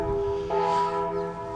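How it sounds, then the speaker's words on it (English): Bells of a parish church in Malta ring out, with a sustained, resonant metallic tone, a fresh strike partway through, and a humming decay, heard from nearby. "the bells are ringing here at our parish church in Malta"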